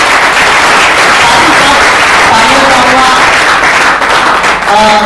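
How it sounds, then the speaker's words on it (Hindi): An audience applauds loudly and continuously at a speaking event, a dense, close wash of clapping that carries steadily to the end without a pause. "साथ ही साथ मैं जोरदार तालियां चाहूंगा"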